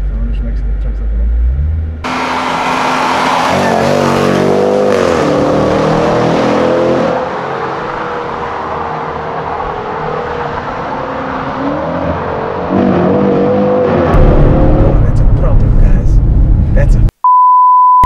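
A 405 kW car accelerating hard through a tunnel, a loud roaring engine climbing through rising gear changes and echoing off the walls, then easing before surging again, with occasional beeps and brief talk inside the car.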